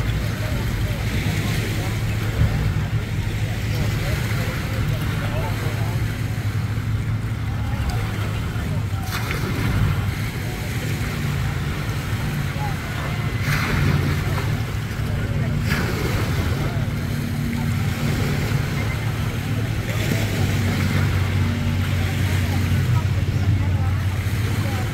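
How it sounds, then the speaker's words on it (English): A boat sits out on the water at a boat ramp, its low engine rumble droning steadily for the whole stretch. Wind buffets the microphone and waves wash faintly around it. "Boat out there."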